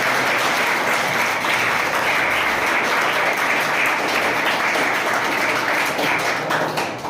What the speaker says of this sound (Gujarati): એમના માટે અને સર માટે, મેડમ માટે જોરદાર તાળીઓ પાડી દો.